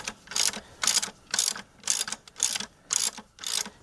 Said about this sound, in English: you tighten them against each other. Then you can use the top one to drive in the stud.